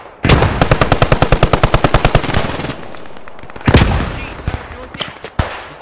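Rapid machine-gun bursts in a Hell Let Loose–style battle: a fast string of loud, evenly spaced shots, then a pause, another heavy blast and scattered shots with faint voices underneath.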